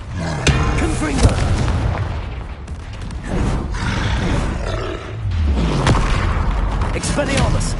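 Confringo fire spell explosions in Hogwarts Legacy, loud booming bursts layered over dense roaring combat noise, with several blasts that swell and fade across the stretch.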